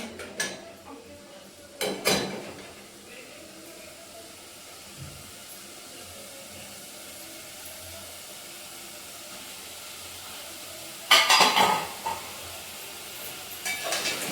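Paneer for a Kolhapuri paneer dish is added to a pan and stirred, with scattered clinks and scrapes of utensil against the pan. A few louder clattering bursts stand out over a low, steady hiss.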